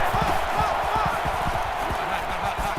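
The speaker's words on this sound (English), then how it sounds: "It's arguably the loudest crowd in the nation" A roaring stadium crowd in an NCAA Football 18 simulation of Florida State at Florida late in the fourth quarter, a dense continuous wall of cheering with rhythmic thumping underneath, loud and sustained.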